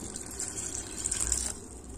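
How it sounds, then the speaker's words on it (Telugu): Water is poured over jaggery pieces in a cooking pot, a steady close trickle that splashes for about two seconds with no voices. "కొంచెం వాటర్ వేస్తున్నాను."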